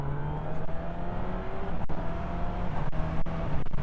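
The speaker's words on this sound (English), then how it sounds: "Let's try the quick shifter." A 2023 Honda CB1000R special motorcycle, with an engine based on a 2004 Fireblade, drones steadily under load and shifts up with the quick shifter, giving a few sharp clicks and cuts in the engine note.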